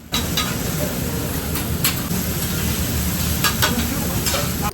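Hibachi chef frying rice, noodles and vegetables on a grill, a loud continuous sizzle with sharp metallic spatula clicks and taps scattered throughout.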